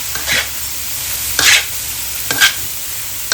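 Vegetables are stir-fried in a hot pan as vinegar or lime juice goes in, giving three sharp bursts of sizzle and scraping from the stirring over a steady low hiss.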